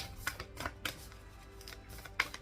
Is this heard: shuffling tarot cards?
yes